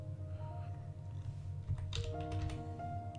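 A few soft, faint key taps on a computer keyboard as a PIN code is entered at a Windows 10 sign-in, heard over a steady low electrical hum.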